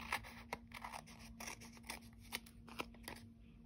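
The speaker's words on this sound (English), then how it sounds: "hope I can cut round that." Scissors snip through paper for a December junk journal collage, cutting around a fancy-topped piece: a steady series of short, crisp snips and scrapes close by, with no talk.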